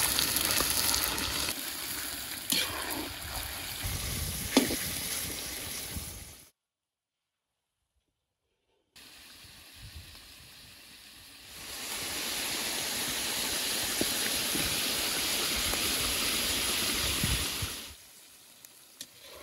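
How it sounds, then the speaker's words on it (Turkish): Meat for Uzbek pilaf fries in vegetable oil in a village kitchen, giving a steady, close sizzle with stirring scrapes. The frying cuts out briefly to silence, then comes back louder and denser, with no talking. "Biraz bitki yağı da ilave edirik. Etimizi de kovurak."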